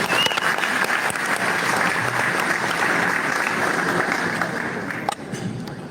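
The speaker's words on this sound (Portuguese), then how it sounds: "Eu quero que você aplaude ao Senhor." A church congregation at a pastors' gathering applauds a visiting preacher with loud, steady clapping that holds for about five seconds before tapering off.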